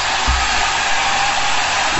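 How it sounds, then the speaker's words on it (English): A welding machine under test gives a steady, loud broadband hiss and hum that runs unbroken and alone, with a few low thumps near the start and end. "I test the welding machine"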